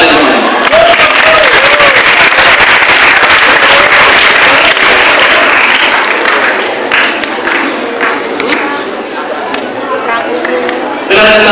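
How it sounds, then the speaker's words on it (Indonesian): Loud applause fills a school hall at a Nuzulul Qur'an commemoration, dense clapping and thumps mixed with crowd chatter and voices throughout, thinning slightly toward the end. "Tepuk tangan untuk kalian semua."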